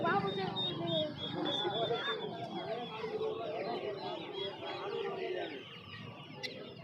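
Roosters and chickens at a Sunday poultry market, several birds clucking and calling close by at a fairly low level, overlapping in a busy cluster, with someone talking among them.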